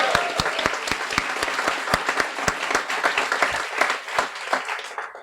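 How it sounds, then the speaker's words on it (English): Audience applause at a Guiding Eyes guide dog graduation ceremony: dense, sustained clapping from many hands fills the whole stretch at steady loudness, with no voices over it. "please help me cheer on this wonderful class"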